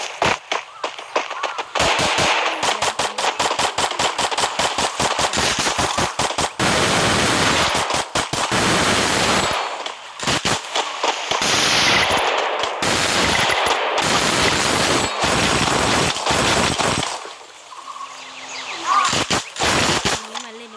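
Rapid bursts of automatic gunfire from a video game rattle in long, dense volleys, loud and close, broken by short pauses, with a voice briefly heard near the end.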